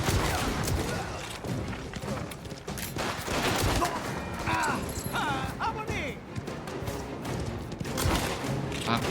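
Gunfire and loud action effects from the video game Mafia The Old Country crowd together in a dense, unbroken mix, with someone talking excitedly over the noise throughout.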